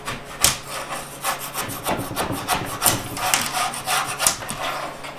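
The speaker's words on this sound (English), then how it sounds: "Now what I want to do is pop these strips off." Glued wooden strips pried off a board ahead of thickness planing, with a steady run of close cracking, scraping and splintering wood noises.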